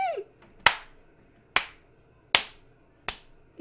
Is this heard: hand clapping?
yes